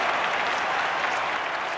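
A stadium crowd in the London 2012 Olympics video game breaks into steady, dense applause, loud and continuous throughout without voices standing out.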